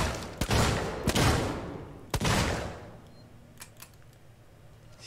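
Revolver shots in the survival horror game Alien Isolation: three sharp, close bangs spaced about a second apart, each trailing into a short reverberant decay, followed by faint clicks.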